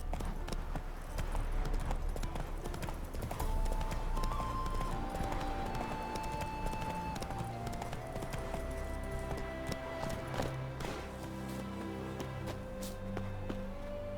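Hooves of the horse Roach gallop in The Witcher 3, a continuous rhythmic clip-clop of hoofbeats running steadily throughout, with faint music tones and ambient game sound underneath.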